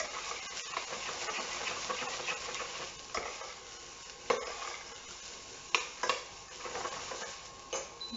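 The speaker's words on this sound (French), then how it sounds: "je vais venir y verser mes pieds d'asperges. Hop, et je mélange tout ça." Green asparagus stalks sauté in a pan over medium heat, a soft crackling sizzle broken by several sharp spatula scrapes and knocks as they are stirred; no voice.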